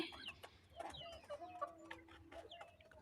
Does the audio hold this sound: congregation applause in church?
no